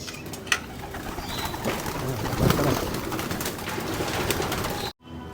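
Pigeons in a backyard loft on a warm, sunny day: soft cooing and bird calls close by over a steady outdoor background, with a brief thump near the start, cutting off abruptly near the end.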